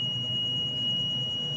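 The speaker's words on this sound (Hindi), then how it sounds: "ये देखिए थोड़ा बजर की साउंड में प्रॉब्लम अंतर आता है" A steady electronic tone from the buzzer on a Microtek V6 inverter circuit board with a fault, sounding continuously and fairly loud over a low background hum.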